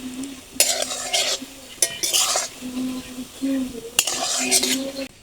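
Palm fruit fritters sizzle steadily in hot oil while a metal utensil stirs and scrapes the pan in short, repeated bursts, close by.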